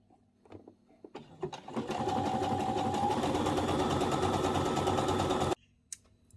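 A sewing machine stitches a folded, overlocked sleeve hem in one steady run of about three and a half seconds, with soft fabric handling before it and a brief clack after it stops.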